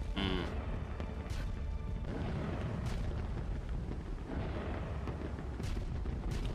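Buster Call bombardment in the One Piece anime: continuous dense explosions and rumbling blasts, with several sharper bursts standing out over a steady roar.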